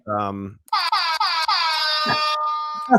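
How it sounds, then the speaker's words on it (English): A small handheld mini air horn is blown in three or four loud, close blasts, the longest stretching over a second, right after a short spoken word. "So this is my mini air horn."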